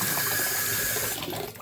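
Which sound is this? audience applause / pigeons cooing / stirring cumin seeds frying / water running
water running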